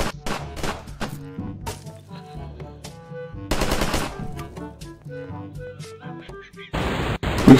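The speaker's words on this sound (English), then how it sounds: "Popping off fireworks." Fireworks popping in the video game Garry's Mod, a series of sharp rapid bursts and crackling blasts spread across the stretch, with louder clusters near the middle and end and quieter tonal game sounds between them.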